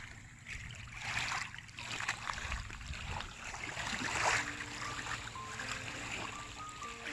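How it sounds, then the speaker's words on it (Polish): Lake water rushes and splashes steadily over a stony bed in a soft, continuous wash, swelling and fading in gentle surges at moderate distance. "uspokajający szum wody"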